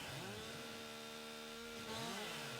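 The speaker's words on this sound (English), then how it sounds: "Get our chainsaw back out. Get all these little limbs off." Chainsaw cutting small tree limbs in Farming Simulator 19, a continuous buzzing engine drone whose pitch dips and rises as it bites into the wood, heard alone and steady.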